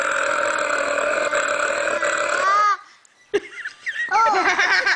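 A baby burps and giggles during a playful burping game with family, a long sustained burp-like vocal sound followed by a pause, then brief babbling and laughter up close.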